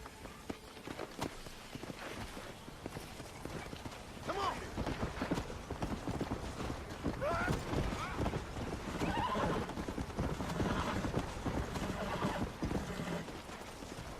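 Horse hooves clip-clopping with whinnies from a horse in the video game Red Dead Redemption, steady footfalls growing busier midway, with game ambience and speech around them.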